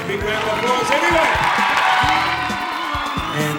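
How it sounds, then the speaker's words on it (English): Audience cheering and whooping in a crowd at a National Theatre awards ceremony, a dense sustained roar with scattered shouts and voices over it, fairly loud throughout. "Big round of applause, everyone."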